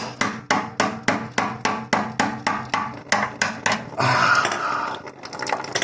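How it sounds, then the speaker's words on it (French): A hammer strikes hard at an electric water heater's heating element during its removal, about fifteen evenly spaced loud metallic blows, then a rough scraping clatter. "Je vais y aller au marteau."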